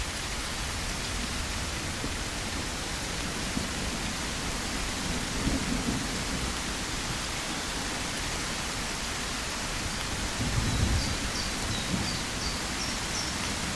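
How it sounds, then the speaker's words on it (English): Very loud rain in a zombie survival video game, a dense continuous hiss of downpour with low rumbles like thunder building briefly twice, no voices over it. "And here comes incredibly loud rain."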